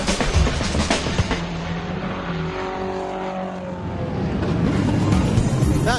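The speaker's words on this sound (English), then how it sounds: "That's the sound of all the cars lining up on the grid as they've done their first lap" Race cars line up on the grid at the Le Mans 24 Hours after their first lap, their engines revving and droning with shifting tones, loud and close at first, easing, then building again.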